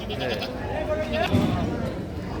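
Goats bleat amid a crowd at a goat market on a high school field, a few wavering cries rising over the murmur of many people talking nearby.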